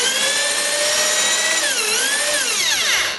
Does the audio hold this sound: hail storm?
no